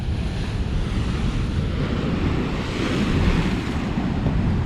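Ocean waves breaking and spraying against coastal rocks, a continuous loud roar of surf mixed with wind buffeting the microphone, swelling slightly partway through, with no voices.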